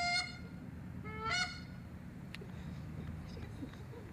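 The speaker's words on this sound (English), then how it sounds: "all he did was sound the goose call again." A goose call is blown at a memorial dedication service, giving two loud nasal honks in quick succession, close by, followed by quieter room ambience with faint murmuring.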